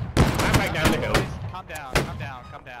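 Musket volley fire in the Napoleonic-era battle game Holdfast: Nations at War, a few loud overlapping shots and booms over a steady background din, with a voice calling out over the gunfire.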